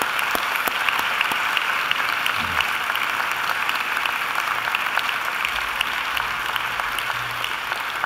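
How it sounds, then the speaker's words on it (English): At a university graduation ceremony, a large audience gives steady, dense applause for the children, a continuous wash of clapping heard from within the hall. "let's give the children a great round of applause"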